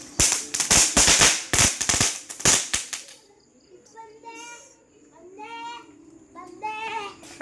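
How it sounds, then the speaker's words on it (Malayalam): A rapid string of sharp firecracker bursts crackles loudly for about three seconds, then stops, followed by children talking and calling out. "വെടിയെല്ലാം ആടെ വെച്ചിട്ടാണ് പൊട്ടിക്കുന്നത്"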